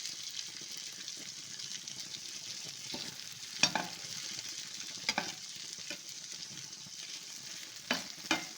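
Brinjal pieces frying in a pan, giving a steady sizzle with occasional sharper scrapes and stirring clatters, close and moderately loud with no talking.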